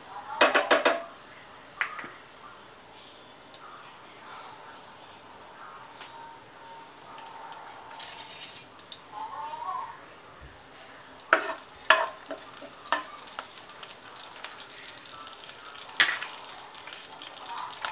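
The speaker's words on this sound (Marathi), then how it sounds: "आणि त्याच्यामध्ये आपण हिंग, जिरं, राई टाकायचे." Asafoetida, cumin and mustard seeds sizzling in hot oil in a pan for a Maharashtrian pitla, a soft steady fry with sharp crackles and pops, plus occasional clinks of a spoon against the pan.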